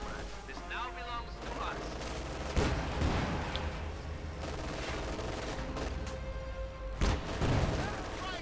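Gunfire and artillery from a Company of Heroes 2 match in which Soviet shock troops with PPSh-41s and grenades fight German OKW forces. Steady dense battle noise with two heavy blasts, all under a continuous commentator's voice.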